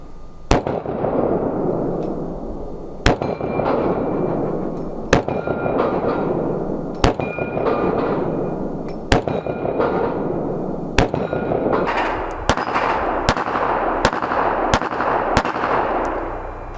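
Glock pistol porting test firing Fatal 15 ammunition, a mid-weight round: about a dozen sharp shots at roughly two-second intervals, loud and close with ringing reverb, speeding up slightly toward the end.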